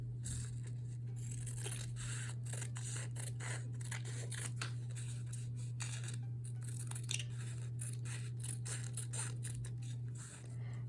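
Scissors snip through a glitter sheet while sun ray shapes are cut, a quiet, close run of repeated crisp cuts and rasps over a steady low hum.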